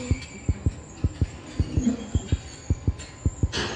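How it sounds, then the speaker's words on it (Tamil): Steady heartbeat thumping at an even pace, about a dozen soft low beats in a row with a faint hum behind them and no talking. "ஹார்ட் பீட் வேற கேக்குது."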